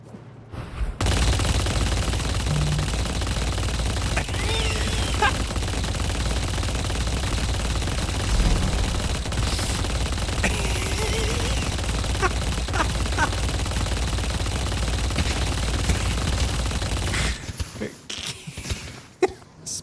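Rapid gunfire from an infinite-ammo hero gun in Deadlock, a sustained dense barrage running for most of the stretch with game effects and talk mixed in, then cutting off near the end.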